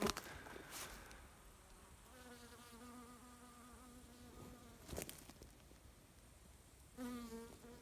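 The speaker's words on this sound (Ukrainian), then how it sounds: "Ось ще одна бджола бачу літає" A bee buzzes nearby around log hives, its wavering drone rising and falling as it flies around, with a few soft knocks and rustles outdoors.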